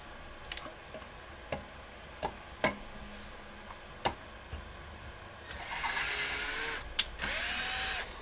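Power drill driving screws into a handmade wooden box, heard as a few short separate bursts followed by two longer whirring runs, close by and fairly loud in a workshop.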